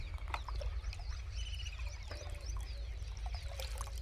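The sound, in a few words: pouring water into clay bird bowl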